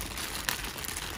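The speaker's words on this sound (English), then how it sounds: "let's get it out of the plastic bag." A Dooney & Bourke Hattie Drawstring handbag in steel blue is pulled from a plastic bag, giving a close, soft crinkling rustle with one sharper crackle partway through, no talking.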